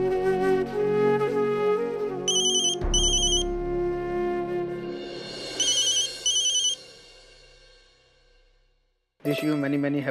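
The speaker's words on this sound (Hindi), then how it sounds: "लेकिन उससे पहले मैं वैशाली को फ़ोन करके बर्थडे विश करता हूँ।" A telephone rings in bursts in a Hindi TV serial scene, a bright electronic ringtone sounding in two short pairs, then a last ring after a pause, over a soft musical background.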